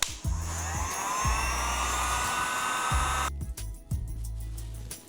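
A heat gun or hair dryer warms double-sided 3M tape during installation of heated ATV handlebar grips, blowing as a steady loud whoosh with a low motor hum that cuts in and out in a few short bursts.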